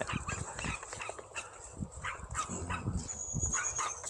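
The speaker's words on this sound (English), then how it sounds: "Actually, the other dogs are the yapper." Dogs on a walk bark and yap in quick, close bursts, several short yips and woofs overlapping through the few seconds, with faint outdoor background.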